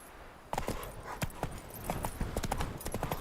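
Roach the horse galloping in The Witcher 3: Wild Hunt, a quick run of sharp clip-clopping hoof strikes starting after a brief quiet moment, close and moderately loud.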